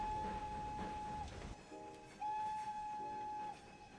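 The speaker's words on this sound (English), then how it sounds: "This whistle has a Moroccan vibe to it." A train whistle in Train Sim World 6 gives two long, steady blasts separated by a short gap, loud and close over the rumbling, clattering run of the train.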